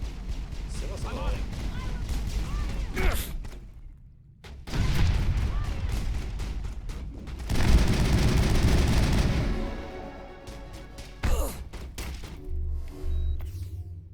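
Assault rifle fire in the Mass Effect video game, sustained bursts of gunfire with loud stretches broken by short pauses, mixed with game sounds and someone talking over it.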